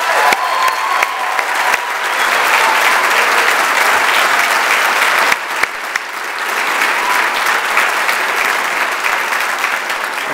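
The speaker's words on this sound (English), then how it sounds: "Let's give them a wonderful round of applause." Sustained applause from a crowd at a teachers and staff tribute dinner, steady and dense throughout with a brief dip midway before the clapping swells again.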